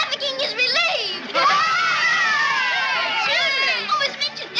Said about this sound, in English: Do you hear the cheering?